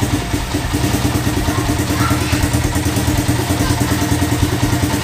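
A Honda Tiger motorcycle engine runs steadily close by, a loud, even mechanical throb with light clatter throughout.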